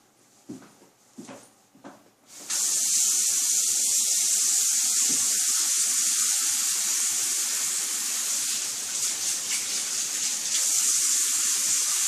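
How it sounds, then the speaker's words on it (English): A faucet runs for handwashing, starting after a few soft knocks and then pouring in a loud, steady, hissing stream that continues to the end. "Wash your hands."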